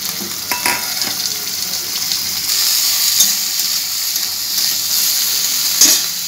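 Thin-cut potato strips dropped into hot oil with whole cumin, a steady close sizzle that swells after a few soft clinks and knocks and then keeps frying evenly, with no talk.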